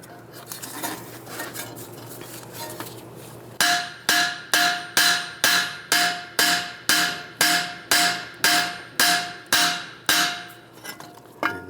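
Hammer tapping down on the steering knuckle of a 1998-2010 Volkswagen Beetle during a strut replacement, about fourteen sharp metallic blows in a steady rhythm, close and loud, after a few seconds of quieter clinking.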